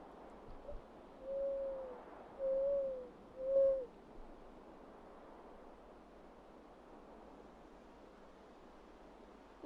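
A voice imitates a mourning dove with three soft, rising hoots spaced about a second apart, then falls quiet over a faint, steady outdoor hiss.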